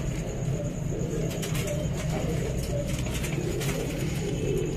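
Fancy pigeons kept by a breeder coo in low, throaty rolls, several birds close by over a steady background hum.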